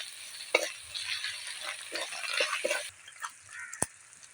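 Chopped onion, ginger and cumin paste fry in a pan with a soft, steady sizzle, broken by a few sharp stirring clinks and taps, fairly quiet overall.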